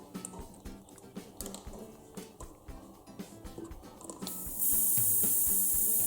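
Water being flushed through an airbrush after spraying miniature paint, giving a soft gurgling spray with small drips and bubbling, then a steady loud hiss of air rushing through near the end.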